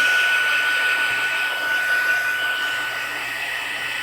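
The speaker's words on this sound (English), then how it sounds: "I'm going to take my heat gun and dry this off some" A heat gun blows steadily over damp, disintegrating copy paper during a watercolor card project, a constant loud airy whoosh with a faint whine, holding even throughout with no speech.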